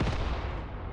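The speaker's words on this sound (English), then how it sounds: "there's artillery fire straight there" Artillery fire in the war game Mius Front: a heavy, muffled boom rolls out once and decays into a rumbling tail, fairly distant.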